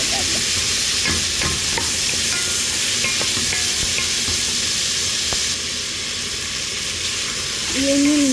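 Tomato, onion, ginger and garlic fry in a pan with a steady, loud sizzle and occasional stirring, close up, and a voice comes in briefly at the end.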